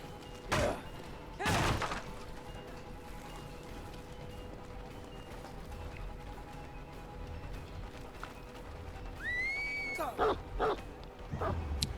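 The Houndmaster's dog in the video game Dead by Daylight: a few sharp thuds and bark-like hits, then rising whistle tones and more thumps near the end, over a low steady game ambience.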